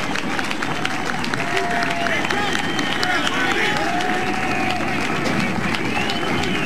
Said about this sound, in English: Now this crowd giving Duke a standing ovation